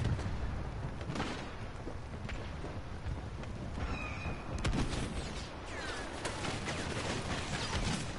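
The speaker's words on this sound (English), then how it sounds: "They're all shooting at me now." Video game battle noise with enemies firing at the player: a dense, continuous wash of gunfire and explosive rumble with scattered sharper cracks, steady and loud throughout.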